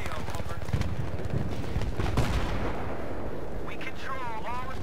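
A grenade goes off in the military shooter Battlefield 3 amid thumping battle noise and nearby gunfire, its loud blast around the middle of the stretch, while someone talks over the action.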